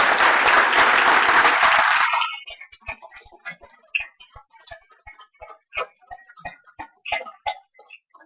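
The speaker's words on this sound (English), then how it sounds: "So let's give them all a round of applause for what they have achieved." Dense, loud applause from an audience honouring graduates at a university commencement fills the first two seconds, then cuts off sharply into a quiet stretch of scattered light clicks and taps.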